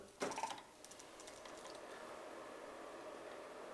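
A sewing machine makes one quick burst of clicking mechanical stitching as the hook picks up the bottom thread, followed by a faint steady motor hum.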